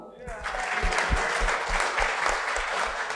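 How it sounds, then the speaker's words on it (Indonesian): Applause breaks out from an audience at an Indonesian political talk, a dense wash of many hands clapping steadily for a few seconds, with some thumping beneath and voices mixed in. "Tepuk tangan dong."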